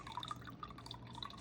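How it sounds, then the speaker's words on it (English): Reduced-sodium soy sauce trickling into beef broth in a crockpot, a faint, thin stream of small liquid drips and plinks in a quiet room. "The next thing we're gonna add to our broth is some soy sauce."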